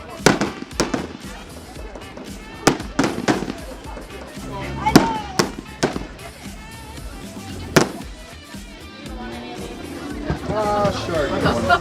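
Large Roman candle fireworks fire a series of loud, sharp bangs and crackles at uneven intervals, with bursts stacking up toward the end, while a crowd murmurs and people talk in the background.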